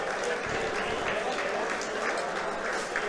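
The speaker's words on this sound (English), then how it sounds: "We're clapping." Audience applause at a Nova Open 2022 tabletop wargaming tournament round, a steady wash of clapping filling the whole clip with crowd chatter mixed in, heard from some distance in a busy hall.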